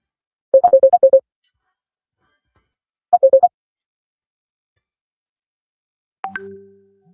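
An incoming call rings on a phone as two short bursts of rapid electronic trills with a pause between them, loud and alone, followed by a brief tone and a hum as the call connects.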